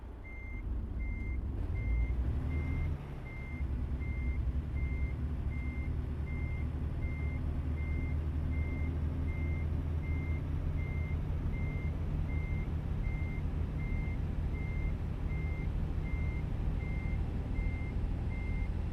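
A truck in a trucking simulation game backs up with a steady series of evenly spaced reversing beeps over a low idling engine rumble, continuing alone for the whole stretch.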